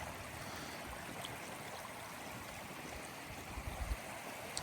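A river streams past in a continuous soft wash of water noise that stays faint and even throughout, with no voices.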